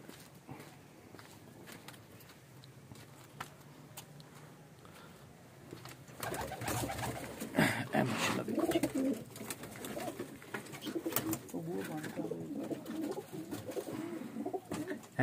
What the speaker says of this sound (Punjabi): ਐ ਮਾਸ਼ਾਅੱਲਾ ਵੇਖ ਲਓ ਕਬੂਤਰ